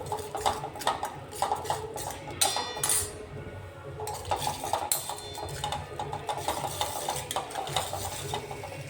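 A spoon stirs a red chilli and salt spice mixture in a pot for rasam vada, making repeated close scraping clinks against the metal in an uneven rhythm.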